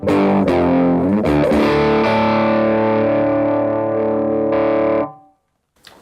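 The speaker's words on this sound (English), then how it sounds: "So I'm running actually into a slightly overdriven amp." Electric guitar with a mildly overdriven, slightly gritty amp tone: a few picked notes, then a sustained chord ringing for several seconds before cutting off.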